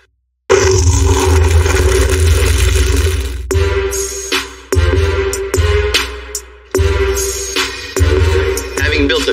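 A lifted Chevy 5500 dually truck engine revs hard and loud at close range, in a series of roaring bursts with sharp cutoffs and clattering drops between them.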